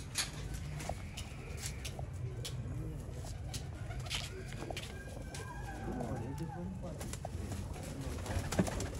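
Red-eyed pigeons kept by a fancier in Gujrat, Shadiwal, coo in low, steady rolling calls against a constant background hum, with faint higher chirps scattered throughout.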